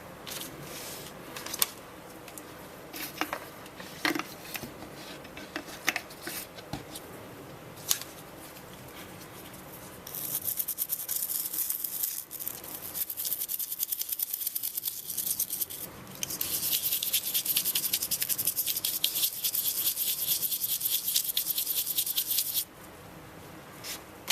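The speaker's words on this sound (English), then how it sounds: "with the toothbrush on this back part." Toothbrush scrubbing the back piece of a 2004 Volvo XC90 key fob during paint repair, first in scattered light scratchy strokes, then sustained rapid brushing in two long bursts, close and fairly quiet.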